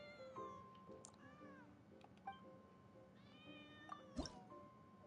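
Cat in the video game Genshin Impact: several quiet meows with rising and falling pitch, mixed with faint dripping and light water sounds and soft background music, all at low volume.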